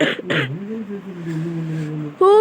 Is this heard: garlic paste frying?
no